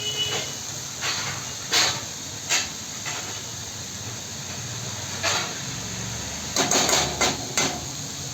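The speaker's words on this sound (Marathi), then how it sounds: "आता झाकण ठेवून आपण मस्त त्याच्यावरती एक वाफ घेऊया" Kantoli vegetable cooks in a covered pan, giving a steady close hiss of steam broken by several short knocks and clatters of the lid and utensils.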